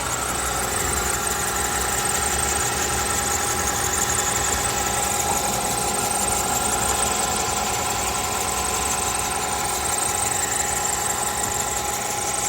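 A Lexus GS350 engine runs steadily with the hood open, a continuous, close mechanical hum and whine with a slight knocking undertone that holds unchanged throughout.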